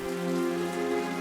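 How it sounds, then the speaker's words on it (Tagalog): Rain drums steadily on the metal roof of a parked jeepney at night, a continuous close patter with no voices. "tunog ng ulan ang naghele sa mga bata"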